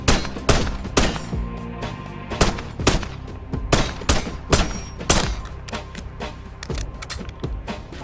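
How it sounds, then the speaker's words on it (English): Gunfire from shooting icicles in the video game Call of Duty Black Ops 6, a steady series of sharp, loud shots in quick bursts throughout, without voices. "whenever you shoot the icicles in Black Ops 6"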